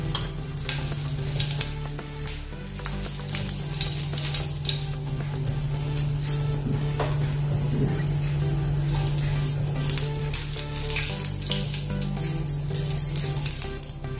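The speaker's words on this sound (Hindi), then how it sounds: "राई तड़ने लगी है" Mustard seeds and cumin crackle and sizzle in hot oil in a home kitchen pan, a steady close frying hiss with busy popping texture running for the whole stretch, no talking.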